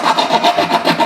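A hand saw trims wood from the sides along the grain in quick, regular back-and-forth strokes, about six rasping passes in a second. It is close and loud, with no talk.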